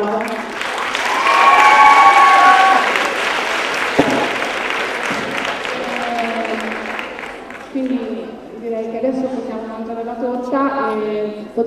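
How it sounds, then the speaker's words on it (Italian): Theatre audience applauding at a fan gathering held in a theatre, clapping loud and full at first and then thinning out while voices and chatter come through near the end. "quindi un applauso"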